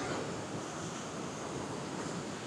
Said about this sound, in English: here's our first shot of Nickle Run Falls